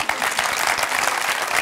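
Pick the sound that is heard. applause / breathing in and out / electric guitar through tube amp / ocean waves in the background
applause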